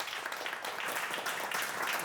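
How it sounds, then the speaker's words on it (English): Audience applause at an energy-sector tech talk, a steady wash of many hands clapping, moderately distant and even throughout, with no talk over it. "Please, a round of applause"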